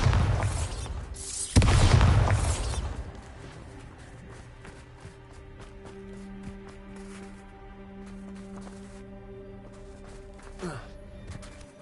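A Bombarda blasting spell explodes in Hogwarts Legacy, a deep booming blast up front that fades into quieter rumbling and ambient game sounds.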